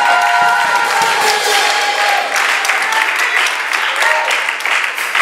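A church congregation applauds and cheers loudly and steadily throughout, dense clapping mixed with crowd voices filling the room at close range.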